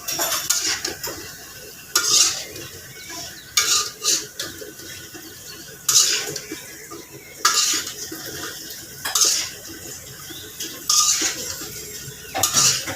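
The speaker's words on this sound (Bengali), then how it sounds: "সবগুলো লাউ দিয়ে ভালো করে নেড়ে চেড়ে আমি আবারও 5 মিনিট কষিয়ে নেব" A metal spoon repeatedly scrapes and knocks against a pot while bottle gourd and brisket meat are stirred, bright clanks recurring every second or two over a low, steady simmering sizzle.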